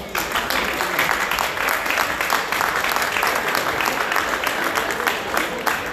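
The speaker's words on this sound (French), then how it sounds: "et là aussi vous pouvez l'applaudir" A crowd at a photography exhibition opening gives dense, continuous applause, many hands clapping together at an even, lively level with no pauses.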